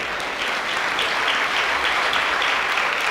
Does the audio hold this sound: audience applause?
yes